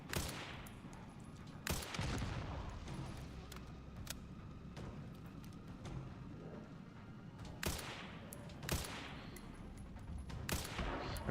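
Gunfire from weapons in the game Resident Evil Requiem, sharp loud shots at irregular intervals over a dense, noisy backdrop of game sound.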